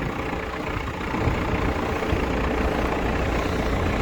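A Kubota GT5 22 hp mini tractor engine runs steadily after starting, a close, even diesel drone that rises slightly in level after the first second and holds without any talk.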